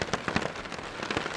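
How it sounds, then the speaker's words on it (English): Heavy rain drums on a tarp or hammock shelter in windy grizzly country, with dense, irregular bursts of close, loud drops and gusty swells. "it's raining pretty hard, pretty windy again today"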